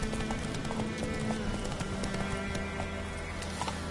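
Hoofbeats of Roach, the horse in the video game Witcher 3, clip-clop steadily at a run, close and continuous over a busy game soundscape with low droning music.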